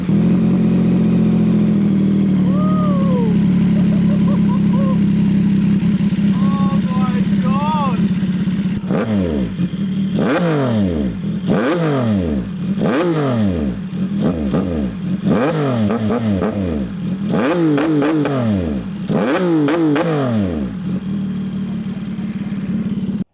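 CFMOTO 675SR-R motorcycle with a full titanium exhaust idling nearby, then blipped through about a dozen sharp, loud revs in quick succession before settling back to idle, with someone talking briefly early on.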